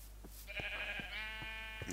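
A sheep bleats in the video game Minecraft, one drawn-out bleat over a soft steady background hum, with faint clicks around it.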